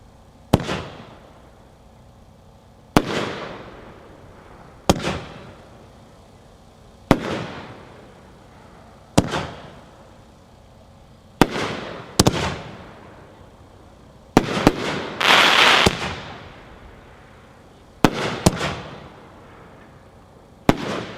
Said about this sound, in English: Number 5 is Maltese Ring, another Dominator Pro level cake, packed 4, 1, 9 shot.